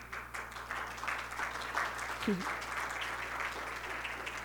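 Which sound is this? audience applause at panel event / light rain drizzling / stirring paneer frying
audience applause at panel event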